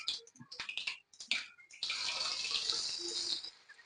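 Hands washed under a running tap in a home kitchen while making palak pakodi, a steady broadband water rush after a few brief clatters and handling sounds, continuing loud for about two seconds.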